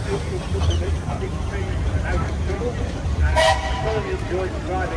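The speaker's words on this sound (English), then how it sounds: "Oh, they've got a whistle, haven't they?" A steam engine whistle sounds at a traction engine rally, a brief bright toot rising over a loud outdoor crowd and engine rumble, with people talking nearby throughout.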